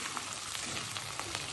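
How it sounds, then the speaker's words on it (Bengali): Lotta fish frying with onion and garlic in a pan, a dense continuous crackling sizzle, close and steady with no talking. "এখন আমি লোট্টা মাছটা দিয়ে দিয়েছি।"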